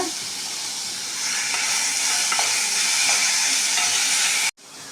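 Tomatoes fry in a hot pan with a continuous bright hiss and sizzle, a few faint stirring taps underneath, ending abruptly.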